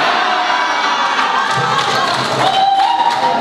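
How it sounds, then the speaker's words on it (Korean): A crowd cheering and shouting loudly at a neighbouring doubles squash match during a tournament final, a sustained roar of voices that swells slightly toward the end. "지금 단식 경기 옆에서 복식 경기가 지금 치러지고 있기 때문에 거기서 지금 함성 소리가 크게 들렸죠"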